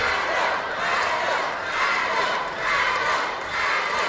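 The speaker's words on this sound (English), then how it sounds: "Adam D'Souza getting a loud support from our crowd in Swanley" At a wrestling singles match in Swanley, the crowd roars in swelling waves of cheering and shouting that rise and fall in a steady pulse, and a commentator's voice is faintly mixed in.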